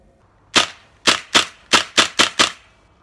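An HPA airsoft gun fires a 3-round burst, a single sharp shot followed by a rapid cluster of crisp pops, loud and close, with no voices.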